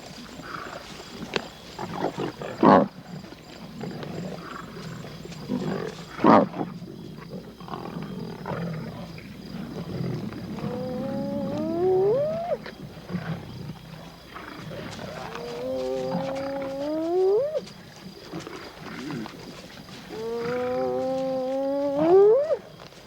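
A pride of lions feeds on the remains of a carcass, with deep growls, snarls and rising roar-like calls repeating at close range amid tearing and scuffling sounds.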